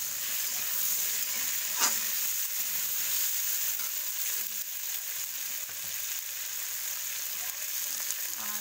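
Vegetables with chopped tomato frying in a pan: a steady, dense, close sizzle that holds level throughout, with a faint knock near the start and no voices.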